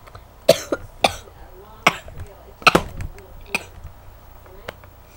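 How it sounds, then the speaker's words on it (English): A person coughs several times in short, sharp bursts spaced unevenly, close to the microphone, with quiet pauses between them. "Whoa, that was a cough."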